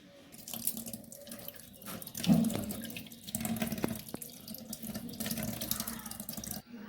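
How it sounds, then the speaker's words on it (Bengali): Tap water runs steadily into a kitchen sink while shelled prawns are rinsed, a close, continuous splashing flow with slight variations as hands move the shrimp. "এবার মাছটাকে আমি ধুয়ে নিচ্ছি।"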